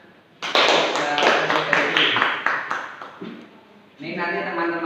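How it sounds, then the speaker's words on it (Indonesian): A classroom group claps for a student presenter: a burst of brisk, close applause that thins out after a few seconds, followed by a voice speaking. "Tepuk tangan."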